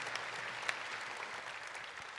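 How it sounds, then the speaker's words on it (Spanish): A congregation at a church Mass gives the young people who lit a candle a round of applause: dense, even clapping from a large group, sustained and moderately loud throughout, with no voices on top. "Les damos un fuerte aplauso a estos jóvenes"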